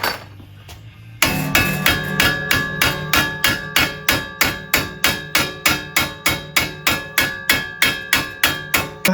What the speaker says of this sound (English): it always takes some sort of blasphemous hammering on the brand new beautiful header